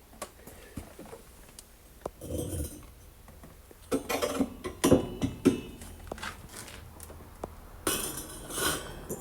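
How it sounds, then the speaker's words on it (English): A homemade metal grate being handled with vice grips in a wood stove, with scattered metallic clinks, clanks and scrapes at close range, some heavier knocks bunched in the middle and at the end. "I just use a pair of vice grips on it to take it in and out of the stove"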